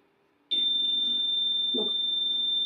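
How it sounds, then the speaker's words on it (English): After a brief quiet moment, a high-pitched electronic tone switches on and holds continuously, loud and steady, with faint background noise beneath. "Sorry about that beeping,"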